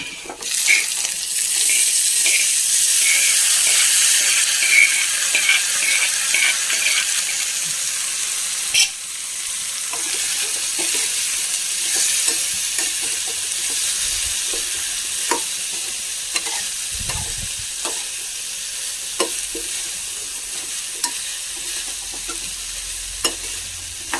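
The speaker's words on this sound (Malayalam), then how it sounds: "നമ്മൾ പയറിനെ ഇട്ട് കൊടുക്കാം." Beans sizzling and being stirred in a hot pan, a loud continuous frying hiss with scattered scraping and clinking stir sounds, fading to quieter sizzling later.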